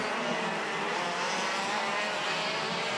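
Race cars battling for position at the back of the field during an Open class final, a continuous broad roar of engines and tyres on the track, steady and fairly loud with no voices.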